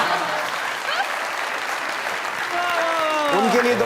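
A studio audience at a comedy show claps in sustained, even applause throughout, with a voice speaking over it near the end.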